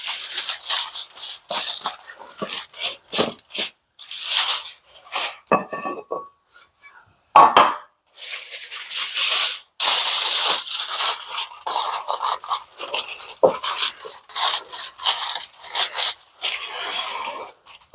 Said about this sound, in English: We're gonna start by lining our pan with foil for less mess.